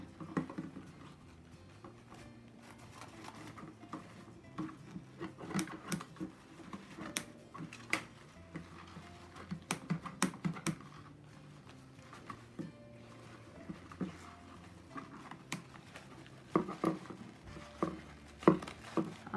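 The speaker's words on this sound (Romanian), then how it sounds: "tăiem bine tot șervețelul acesta" Scissors snip along the edge of a paper napkin, making irregular, close, quiet clicks and crisp cuts with short pauses between them.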